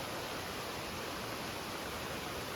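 A large waterfall at Thusharagiri, pouring down from a height, gives a constant broadband roar of falling water, unbroken and close throughout, with nobody speaking.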